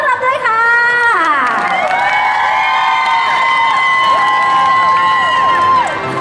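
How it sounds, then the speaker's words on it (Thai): A concert crowd at a Saturday live balcony mini-concert screams and cheers loudly to welcome a singer, with high-pitched shrieks that swell and hold throughout. "ปรบมือต้อนรับด้วยค่ะ"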